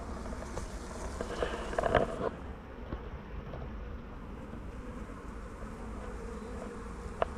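Honeybees from a farm hive opened for inspection buzz steadily nearby in a fast, frantic drone, with a few louder passes close to the microphone.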